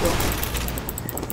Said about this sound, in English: How did he get away from the sentry gun?